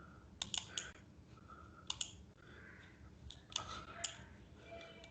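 A computer mouse gives several light, close clicks in small clusters against a quiet room background.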